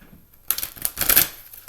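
Tarot cards riffled and shuffled by hand close up, a short burst of crisp, rapid papery flutters after a brief quiet moment.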